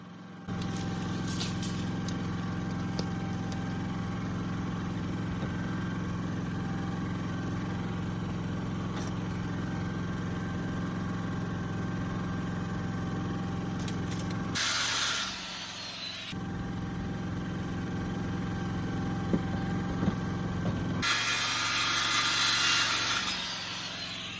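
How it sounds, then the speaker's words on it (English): A saw cuts through a piece of 2x4 lumber outdoors during fence building in a gully, with steady rasping strokes over a constant engine-like hum, and two louder bursts of cutting noise toward the end. "We're gonna cut us a piece of this 2x4"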